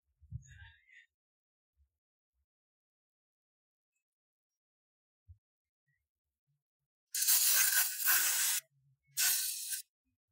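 Two short hissing bursts of brake cleaner spray on an oily 2009 Ford Focus engine part, close and fairly loud, following a few faint knocks and handling noises.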